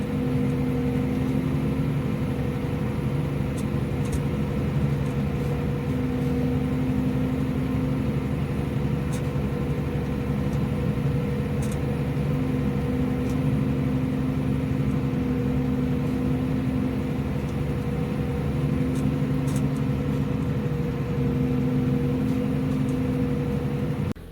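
A New Holland T7.220 tractor pulling an Overum plough through a field, its engine droning in a low steady hum that stays constant and close, with a few faint clicks on top.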